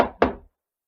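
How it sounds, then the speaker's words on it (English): Two quick, solid knocks rap on a wooden door in an old-time radio adventure, close and dry, the second louder, followed by silence. "rapped on the door"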